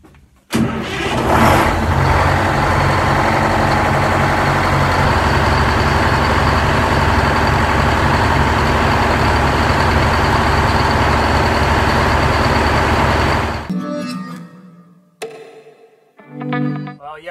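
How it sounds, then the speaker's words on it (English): Boat engines being fired up after a mechanic replaced a seal: a loud crank and catch, then a steady, rumbling idle that runs strong for about twelve seconds before cutting off, followed by faint movement and handling noise. "And today I'm going to fire up the engines."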